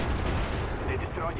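Gunfire in the video game Call of Duty Black Ops, a loud dense burst of rapid shots with a voice speaking over it.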